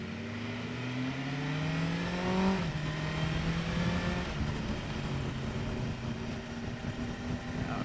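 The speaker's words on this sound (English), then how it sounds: "I will try and use the quick shifter." A 2023 BMW S1000R motorcycle pulls hard through the gears using its quick shifter, the engine note climbing in rising sweeps, each upshift cutting in sharply, with wind noise around the rider.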